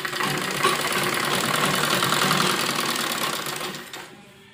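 A sewing machine stitching the front and back pieces of a baby kurti together along the fitting marks, a fast, even mechanical whir held for several seconds before slowing and stopping near the end.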